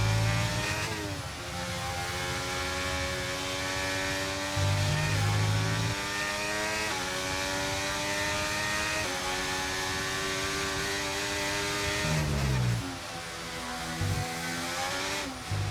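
A Formula 1 car engine in the racing game F1 23 on a wet Austrian track during a sprint race, roaring loudly and steadily with rising, climbing pitch sweeps as it accelerates through gears, dropping briefly before revving up again.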